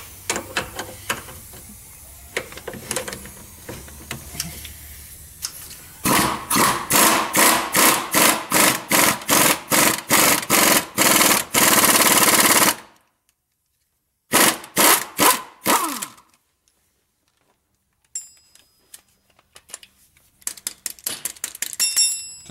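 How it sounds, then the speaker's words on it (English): Pneumatic or electric impact wrench loosening a ball joint nut on a D30/D44 front axle: several long rapid hammering bursts, a pause, then shorter bursts and a few brief final rattles, loud and close with no talk. "Some of this stuff is just that much easier with impact."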